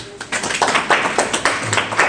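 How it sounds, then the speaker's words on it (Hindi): A quick burst of hand clapping at a memorial tribute gathering, several sharp claps in an uneven rhythm, close and fairly loud. "ताली भी है।"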